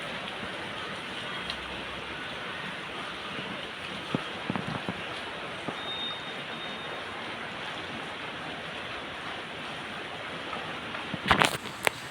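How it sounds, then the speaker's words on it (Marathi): Heavy morning rain falls in a steady, moderately quiet wash of patter, with a few louder knocks and splashes near the end. "सकाळी एकदम म्हणजे जोरात पाऊस सुरू झाला आहे"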